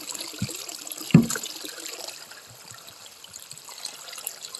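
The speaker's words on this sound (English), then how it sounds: "It's always a good idea to rinse them out, just so you got that clean" Water trickles and sloshes while reused glass bottles are rinsed out, a soft continuous running-water sound with a brief clink near the start, close and without talk.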